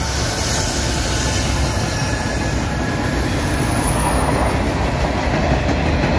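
A freight train with a New York Central car rolling past close by, a loud, continuous rumble of wheels and clattering cars with faint squealing, steady throughout.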